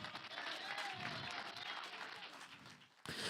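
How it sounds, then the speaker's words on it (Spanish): A church congregation applauding during a sermon, a dense steady wash of clapping from many hands with faint voices mixed in, holding level before a brief dip near the end. "Aplaudan los sabios de la tierra,"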